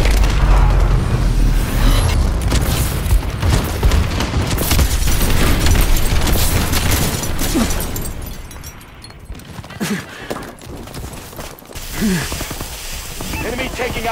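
An enemy bombing run in Call of Duty Advanced Warfare multiplayer, with loud, continuous booming explosions rolling over the match, then easing into scattered blasts and gunfire while announcer callouts play.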